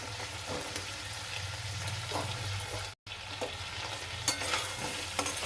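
Shell-on prawns frying in hot oil for a prawn malai curry, a steady loud sizzle with spatula stirring and scraping throughout, a brief break midway, no voices.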